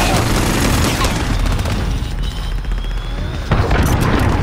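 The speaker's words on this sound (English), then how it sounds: "I got the cruise missile directly down on top of it" A cruise missile explodes in the Call of Duty Modern Warfare 2 video game, part of a dense, loud wall of booms and rapid gunfire that rumbles on continuously, with a sharp new blast near the end.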